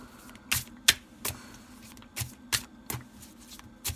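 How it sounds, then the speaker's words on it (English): Crisp, papery snaps of tarot cards being shuffled sideways in short bursts, about eight quick riffs spaced irregularly, close up and quiet, with no talking. "I prefer doing it sideways and shuffling like that."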